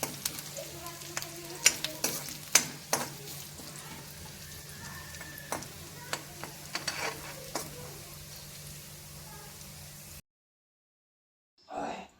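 A pinch of asafoetida stirred into hot oil in a pan for veg momo filling, with a steady sizzle broken by sharp spoon clinks and scrapes. The sound drops to silence near the end before a brief rustle.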